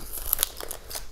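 Scissors snip through the dense roots of a plant being pulled from a terrarium, a few crisp close cuts with crunchy, crackling texture over about a second.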